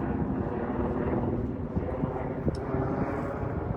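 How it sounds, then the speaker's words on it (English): Helicopters flying overhead near a wildfire, a broad continuous rotor and engine rumble that stays fairly even, with light wind noise over the microphone. "You'll notice that there are a couple of helicopters in the air."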